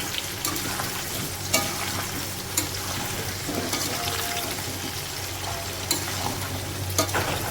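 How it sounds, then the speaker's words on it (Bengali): Potatoes fry in a hot pan with a steady, even sizzle, and a utensil stirs and scrapes them in occasional short clicks. No one speaks, and the hiss stays close and moderately loud throughout. "তো এখানে প্রায় আলুটা ভাজা ভাজা হয়ে এসছে।"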